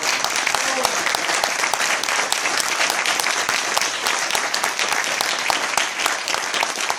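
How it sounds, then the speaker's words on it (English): Applause for a guest speaker at a talk, with a dense, steady wash of clapping from a crowd that stays loud and unbroken for several seconds, with faint voices underneath. "Guys, give Jason another round of applause"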